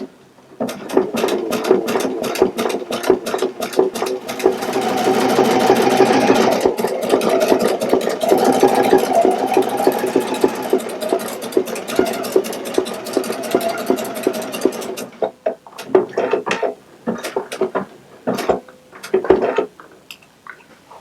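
A sewing machine stitches a holiday table runner, its rapid needle strokes running steadily for about fifteen seconds, then breaking into slower, intermittent bursts as the fabric is turned at a corner.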